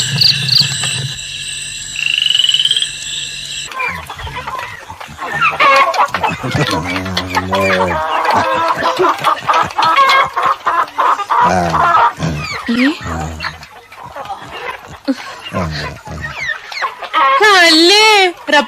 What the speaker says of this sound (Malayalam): അവിടെ ഒരു കോഴി